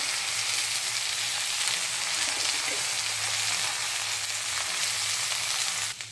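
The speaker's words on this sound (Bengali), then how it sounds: "এবার পেঁয়াজটা দিয়ে দেবো। লঙ্কা কুচি দিয়ে দেবো।" A loud, steady sizzle of onions and chilies frying in a hot pan, crackling continuously without a pause.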